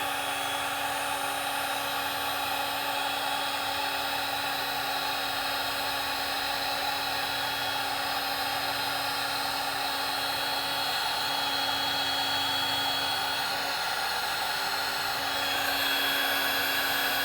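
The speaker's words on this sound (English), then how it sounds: "So I'm gonna go grab some, my heat gun and a couple of the butt connectors. So heat this up." A heat gun blows hot air over heat-shrink butt connectors during a vehicle wiring repair. It makes a continuous, loud blowing roar with a steady whine that holds for the whole stretch, and no one talks.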